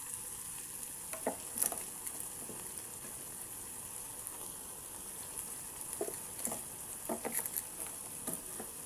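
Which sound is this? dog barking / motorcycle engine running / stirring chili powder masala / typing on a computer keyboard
stirring chili powder masala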